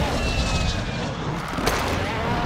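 A jet roars overhead in Call of Duty Warzone 2, a steady loud broadband rush of engine noise that holds throughout, with faint game sounds in the mix.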